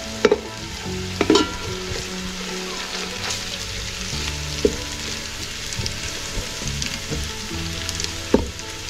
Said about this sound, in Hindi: लहसुन को भी अच्छे से फ्राई कर लेंगे।